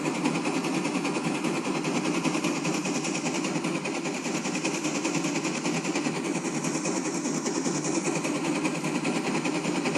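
A homemade engine runs steadily right beside one of its noisy valves, giving a loud, continuous mechanical clatter with rapid rhythmic ticking that holds unchanged throughout.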